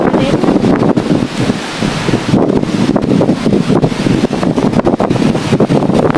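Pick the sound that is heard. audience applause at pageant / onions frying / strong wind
strong wind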